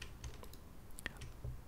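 Quiet clicks of a computer keyboard as keys are pressed and held, a few soft, scattered taps in close, faint isolation with no talking.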